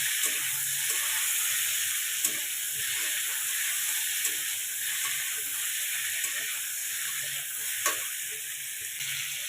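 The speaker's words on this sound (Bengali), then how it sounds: "এবার জলপাইটা ছেঁকে নিয়ে এতে দিয়ে দিলাম ভালো করে একটু নেড়ে নেবো" Strained olives sizzle in a hot pan, a steady loud frying hiss close by, with occasional spatula scrapes and taps as they are stirred, and no speech.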